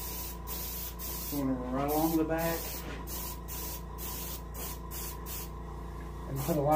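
An airbrush hisses steadily and continuously at close range, spraying yellow ochre paint over the back of an Arctic char taxidermy fish, while a voice talks briefly over it.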